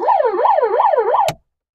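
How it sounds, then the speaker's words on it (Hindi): A loud wailing siren fitted to a modified car rising and falling in repeated sweeps, cutting off abruptly after about a second and a half. "सायरन वगैरह लगा रखा है जी गाड़ी में"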